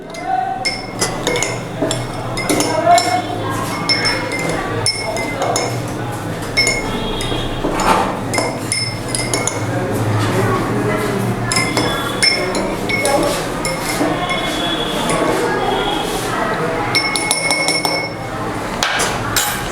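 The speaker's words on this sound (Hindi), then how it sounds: "अब मैं अगर इसको स्टेयर कर दूँ द हेल्प ऑफ स्पून" A spoon clinks and taps against a glass container as it stirs an ink solution, a busy run of bright, irregular clinks that goes on throughout with occasional faint speech.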